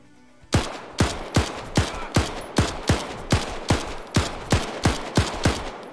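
Gunfire in a video game under development, a series of about fourteen evenly spaced loud shots, each a sharp crack with a short decaying tail, firing alone in a steady rhythm.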